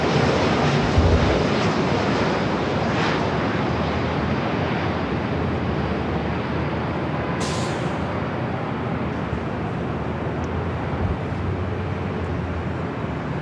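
An Air Canada airliner takes off at Los Angeles airport with a broad, steady jet roar that stays loud and constant throughout, close and without voices.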